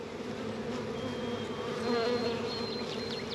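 Honeybees from a swarm being gathered into a box give a dense, steady buzzing hum close by, with individual bees droning past and swelling the sound briefly near the end.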